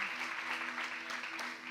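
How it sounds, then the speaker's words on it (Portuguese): A church congregation claps loudly, a brief continuous burst of applause with a low hum running underneath. "O nome de Jesus, aplauda bem forte."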